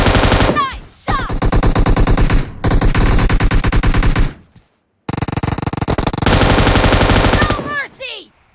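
Golden machine gun firing in a video game: long, loud sustained bursts of rapid automatic fire, broken by brief pauses and a short silence, with a few voice-like chirps between bursts.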